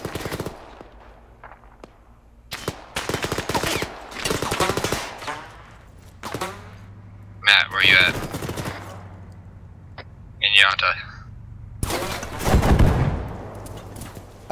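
Gunfire and grenade blasts aimed at players in the video game Blackforge, heard as bursts of rapid shots and sharp explosions separated by short gaps, with a voice talking between them.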